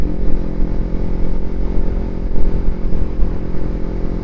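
A borrowed Kawasaki Ninja 300 motorcycle being ridden, a loud, continuous engine drone with steady low rumble and wind noise, no speech.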